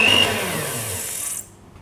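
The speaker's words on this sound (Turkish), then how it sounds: "Bir paket vanilya ilave edip mikserle 10 dakika karıştırıyoruz." An electric mixer beats thickened milk custard (muhallebi) with vanilla for a Kemalpaşa dessert topping. It gives a steady, fairly loud whirring for about a second and a half, then cuts out, with no talk over it.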